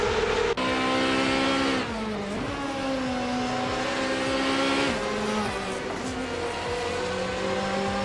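Race cars in a racing video game on the Brasilia Oval track, led by a 1994 Ferrari F355 Challenge, roar at high revs in a loud, continuous engine drone with shifting pitch and gear changes.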